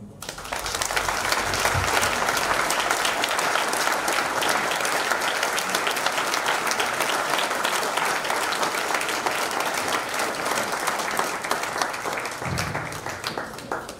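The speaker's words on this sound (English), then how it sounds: "please join me in an applause as we celebrate this great Army family." Sustained applause from a large audience at an Army retirement celebration in Texas, steady and dense for the whole stretch, with no voices standing out.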